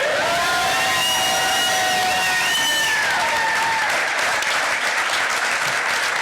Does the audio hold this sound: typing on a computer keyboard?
no